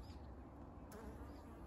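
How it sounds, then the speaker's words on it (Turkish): Bees hum around the flowers of a castor oil plant outdoors, a soft continuous buzzing close by that stays level and low in volume throughout the short stretch. "Arılar şu anda hep üstünde."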